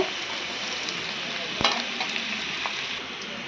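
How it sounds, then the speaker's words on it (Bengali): Onion frying in hot mustard oil in a pan, a steady close sizzle with light stirring and one sharp utensil knock partway through, and no talking. "তো ভালো করে এই পেঁয়াজটা ভেজে নিয়েছি গরম তেলে"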